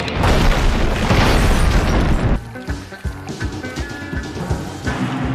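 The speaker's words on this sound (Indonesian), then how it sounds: "Dan si Jimmy meledakkan rumahnya, tapi si Kegan berhasil selamat." A house explosion from the action film Bullet to the Head: a loud, dense roaring blast that rumbles for about two seconds, then drops into crackling debris and lighter crashes with scattered pops.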